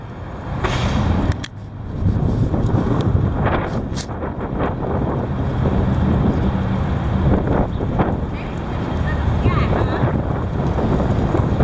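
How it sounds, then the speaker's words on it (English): Heavy wind buffets the microphone outdoors in a steady, loud, broadband roar that gusts and rumbles throughout, with brief muffled handling bumps near the start. "Here it is. The heavy wind."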